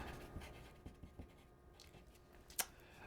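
Pen scratching on paper while noting down game details for a Four Against Darkness solo dungeon session, quiet intermittent strokes with a sharper scratch near the end, no talking.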